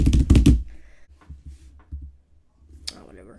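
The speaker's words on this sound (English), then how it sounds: "I'm just pressing random keys on the keyboard." Random keys pressed on a computer keyboard while trying out the MikeOS 4.6.1 operating system, heard as a quick burst of loud clicks followed by a few scattered, quieter taps.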